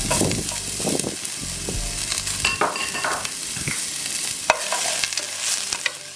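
Garlic frying in olive oil for a seafood paella, an ongoing crackling sizzle broken by scraping and clacking strokes as the pan is stirred, close and steady throughout with no talking.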